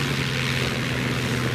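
Steady drone of a light aircraft's small 100 hp propeller engine, likely a Focke-Wulf Piaggio P-149D at an airshow, loud and continuous with a strong low hum and broadband roar, no talking.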